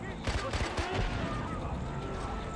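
Rapid gunfire from the player's new gun in Far Cry 4 rattles off in quick bursts over a dense, rumbling game soundscape, with a voice talking over it.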